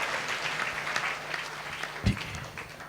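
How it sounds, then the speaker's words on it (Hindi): A church congregation at a Sunday service claps together in sustained, dense applause that fills the room steadily for the whole stretch, with faint voices beneath. "परमेश्वर को ताली बजाएंगे आपको लिए, एक दूसरे के लिए"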